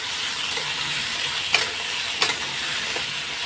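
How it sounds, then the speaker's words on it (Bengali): Steady sizzling of potatoes frying in a pan, with a couple of brief scrapes as they are stirred; no one speaks. "আলুগুলো এখন একটু ভেজে নেবো লাল লাল করে।"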